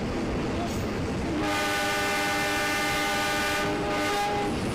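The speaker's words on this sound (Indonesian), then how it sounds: "rangkaian kereta pun berjalan langsung melewati stasiun Cipatat" A train on the Padalarang–Cianjur railway rumbles steadily past Cipatat station, its horn sounding a sustained chord for a couple of seconds over the continuous rolling noise of the cars.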